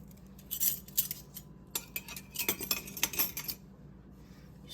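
Utensil clinks and scrapes against a skillet while pizza crust ingredients with yeast and salt are stirred, a string of bright, irregular clatters close by with brief pauses.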